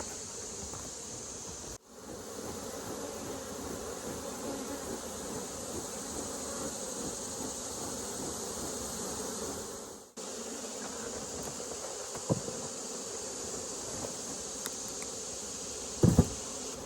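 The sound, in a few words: honey bees buzzing in a box during varroa mite check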